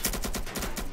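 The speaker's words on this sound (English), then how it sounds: "I'm firing!" Rapid bursts of gunfire from a Roblox civil war game, a steady stream of evenly spaced shots filling the whole moment at moderate loudness.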